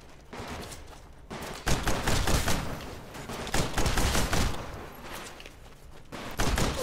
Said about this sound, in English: Titans will not take substantial damage from small arms fire.